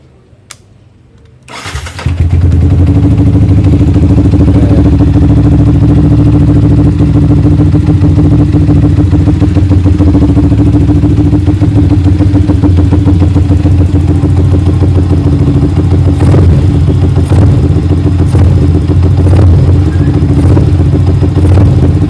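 Suzuki GSX150 motorcycle fitted with an R15v3 throttle body cranks briefly after a quiet start, then fires and settles into a loud, steady single-cylinder idle that runs alone for about twenty seconds.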